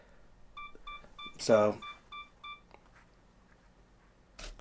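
A Sony A7 IV camera's self-timer sends out a regular series of six short, high, evenly spaced beeps. Someone speaks briefly partway through the countdown.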